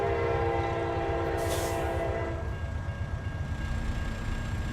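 A train rolls past a crossing in the trucking game American Truck Simulator, its horn blaring long and loud over a rumbling, clattering run of rail cars that continues after the horn cuts off.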